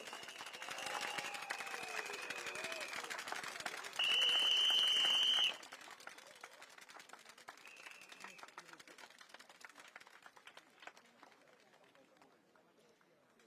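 Audience applause for the candidates at a Progress Singapore Party rally in the Marymount single-member constituency during Singapore's GE2025: a steady, fairly distant patter of clapping, with a voice over the opening and a brief steady tone midway.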